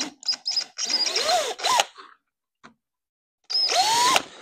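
Short whining bursts from a power drill boring through a DIY skid plate for a Baja Rey truck, with a few quick pulses, a pause, then one more sustained drilling run, close and clear.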